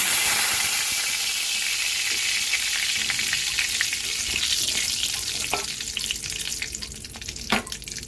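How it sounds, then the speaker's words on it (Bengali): Bay leaf and whole garam masala sizzling in oil left from frying potatoes, a loud, bright crackle that settles into a steadier hiss, with a few clinks of stirring near the end. "আলু ভাজা তেলের মধ্যে একটা তেজপাতা আর গোটা গরম মশলা ফোড়ন দিয়ে দিলাম।"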